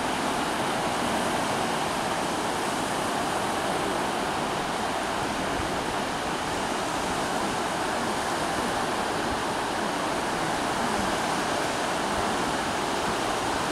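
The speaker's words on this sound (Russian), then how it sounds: "Сегодня на море ветрено" Continuous roar of windy sea surf breaking along the Riga seaside shore at Jurmala, Latvia, broad and steady with wind noise blended in, no distinct pauses between waves.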